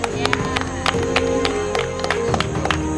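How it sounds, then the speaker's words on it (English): A group applauds a host after a Survivor-style game day, a steady patter of claps under continuous murmuring voices and background hum. "Can we just give Alex a round of applause for being a great host?"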